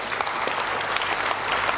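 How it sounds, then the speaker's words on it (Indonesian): An audience applauding together, a dense, steady wash of clapping at moderate loudness throughout. "Tepuk tangan untuk semuanya."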